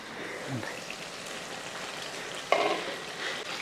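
Soya chunks curry, Kerala style, gets stirred in a pot: a soft, close bubbling simmer with a brief scrape of the spoon near the start and a louder clatter against the pot toward the end.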